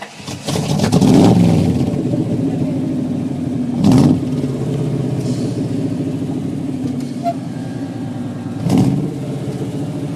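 A C3 Corvette limousine with a fuel-injected 1985 5.7 TPI V8 runs with a steady, loud rumble. The idle swells in three short revs spread across the stretch.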